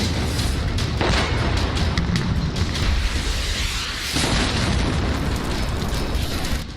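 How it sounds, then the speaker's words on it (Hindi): Russian bombardment explodes in Ukraine in a dense, continuous barrage of booms and bursts with sharp repeated impacts rising over a rumbling roar, with no voices. "रूस की बेहिसाब बमबारी लगातार जारी है"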